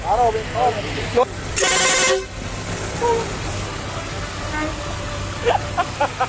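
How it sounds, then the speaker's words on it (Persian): A single loud vehicle horn blast lasting about half a second sounds near the middle, amid traffic noise and people talking. "یه بوق بزن لطفا"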